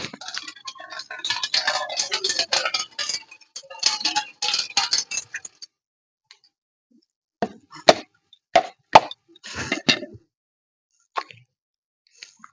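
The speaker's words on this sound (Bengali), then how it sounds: "এবার আমি নারকেলটা ফাটিয়ে নিচ্ছি।" A coconut being cracked open in a kitchen gives several sharp, separate knocks in an irregular rhythm after a stretch of busier clattering sounds.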